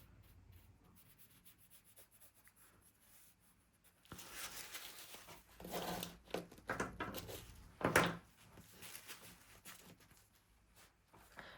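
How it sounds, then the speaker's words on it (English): A brush sweeps water across watercolour paper in soft, close rubbing strokes, quiet at first and then in several louder bursts of scrubbing, with no talking. "So I'm just wetting the paper thoroughly."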